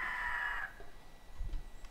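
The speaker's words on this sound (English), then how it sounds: "Oh, there's a freaking bird!" A bird calls in the video game 7 Days to Die, a brief crowing cry at the start that fades quickly into low, rumbling game noise.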